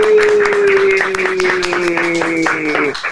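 A studio audience claps loudly and steadily, many hands beating fast, under a sustained sung or held vocal tone. A voice talks over the clapping.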